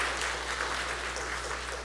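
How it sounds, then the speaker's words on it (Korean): A church congregation claps in welcome, giving a dense, even wash of applause that holds steady for the whole short stretch with no voices over it. "자, 박수로 환영합니다."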